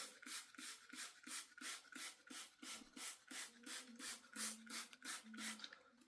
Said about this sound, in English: So spray it on the spot.